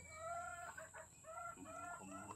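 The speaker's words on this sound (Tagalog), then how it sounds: "Nagkakakak na yung manok." Hens cackle repeatedly close by, a run of rising, strained clucking calls that are soft overall, with no talk.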